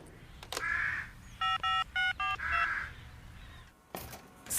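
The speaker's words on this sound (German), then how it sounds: "Ich wollte nur noch zuerst Rita anrufen." Telephone number dialed on a keypad in a children's cartoon set at a building supplies store, a quick series of about five crisp electronic dial tones between other short electronic chirps, with quiet background.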